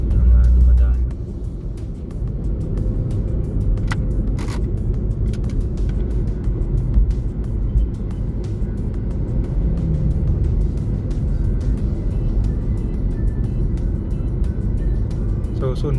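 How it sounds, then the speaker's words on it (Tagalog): Public jeepneys passing along a road in Taytay, Rizal, heard as a steady low rumble of traffic with a louder vehicle sweep at the start, continuing under the talk of a person. "Dito kasi maraming mga jeep na pang public mga dumadaan."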